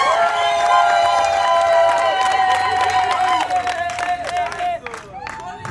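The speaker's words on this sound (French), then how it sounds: "Applaudissez très très fort." Wedding guests at a civil marriage ceremony clap and cheer while sustained tonal voices or music ring over them, and the clapping turns sharper and more scattered toward the end.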